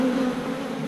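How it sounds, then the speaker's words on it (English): Honey bees buzzing at an open beehive during a queen inspection, a dense close-up drone with a steady pitched hum, loud and continuous for a brief moment. "We got plenty of bees here"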